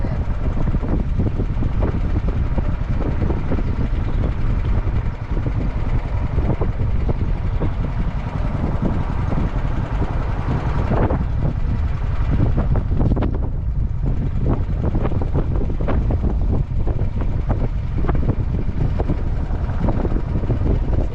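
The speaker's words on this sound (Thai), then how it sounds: "ลมวีวีครับ" Strong wind blows steadily across the microphone at a riverside rapids in a bend of the Mekong at Ban Bung Khiao, a loud continuous rumble with low engine-like undertones lasting throughout.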